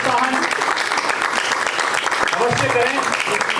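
Loud, sustained applause from a theatre audience at a college drama festival, dense clapping running steadily throughout with crowd noise and some voices mixed in.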